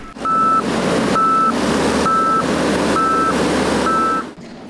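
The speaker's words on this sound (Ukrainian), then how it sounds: "на будівельному майданчику працюють грейдери та катки" Graders and road rollers at work on a road construction site, with a reversing alarm sounding five evenly spaced beeps over a steady engine rumble.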